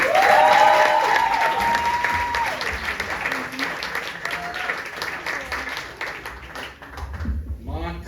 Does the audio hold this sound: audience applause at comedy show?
yes